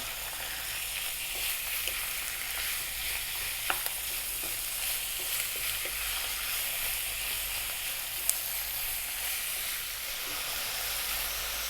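Minced meat and onion fry in a pan over above-medium heat for Turkish pide, a steady broad sizzle with occasional stirring clicks and pops, no talking.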